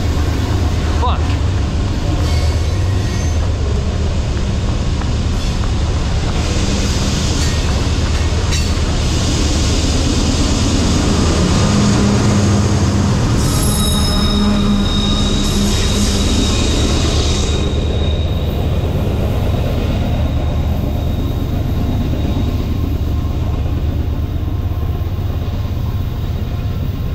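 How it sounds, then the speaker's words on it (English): A train passing fast at close range, a loud continuous roar of wheels and carriages that fills the whole stretch, with voices heard under the noise. "So, unfortunately, the train was going too fast."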